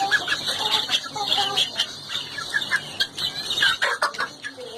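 Chickens and chicks cluck and peep in a busy, continuous chorus at close range, with loud sharp bird calls on top while poultry and pet birds are fed sprouts.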